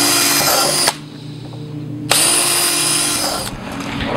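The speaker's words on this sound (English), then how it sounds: "Drill your four pilot holes." Pilot holes are drilled with a power drill for a handle cutout on an oyster nursery silo: two loud, close, sustained whines with a short lull between them and tapering at the end.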